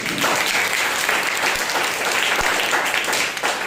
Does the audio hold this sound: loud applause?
yes